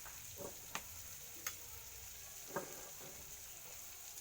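Sliced onions fry quietly in oil with turmeric, joined by cut eggplant. A low, steady sizzle runs throughout, with occasional sharp ticks and spatula scrapes at irregular intervals.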